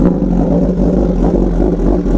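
An MV Agusta naked motorcycle with race kit and aero exhaust revs loudly up close, its engine droning steadily with rapid pulsing throttle blips.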